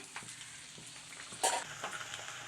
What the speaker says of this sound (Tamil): நம்ம பூரியை பொரிச்சு எடுத்துக்கலாம்.